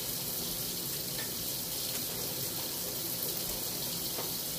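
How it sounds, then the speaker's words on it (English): Tap water runs steadily into a sink as a constant, close hiss and splash, without a break and with no talking. "I'm running water right now."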